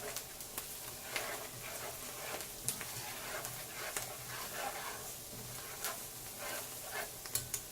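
A spoon stirs food in a pan on the stove, making soft scraping and light sizzling with small irregular ticks, faint and close, in a home kitchen with flour being added.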